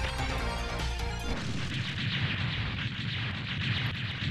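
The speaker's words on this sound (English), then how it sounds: "I'm just gonna take him out with one final fire uppercut." A fire uppercut attack in the video game Megaman X4, playing as Zero, heard as a dense, loud burst of crashing, explosive game effects that fills the whole stretch with constant roaring noise.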